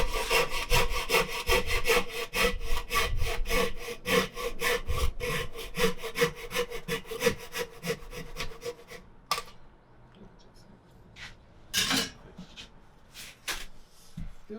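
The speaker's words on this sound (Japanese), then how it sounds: "切り終わる頃って音が変わりますね" A Japanese hand saw cuts a wooden dovetail joint for traditional timber joinery, with rapid close rhythmic strokes that change tone near the end of the cut, followed by a few sparse scrapes and knocks.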